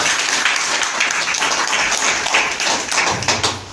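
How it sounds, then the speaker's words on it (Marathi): An audience at a gathering applauds, and the dense clapping holds steady and loud for the whole stretch with no voices over it. "टाळ्यांचा गजर करूया."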